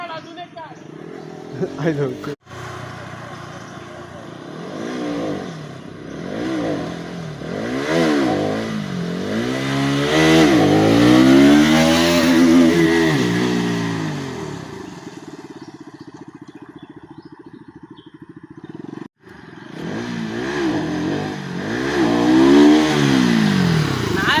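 An off-road motorcycle's engine revs repeatedly while riding on rough ground, pitch sweeping up and down in close, loud surges, with a brief cut-out midway and people talking throughout.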